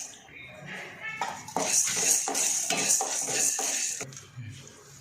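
Chana dal, urad dal and dried chillies roasting in a pan, with repeated metallic scraping and clinks of a utensil stirring against the pan over a steady background, while a person talks.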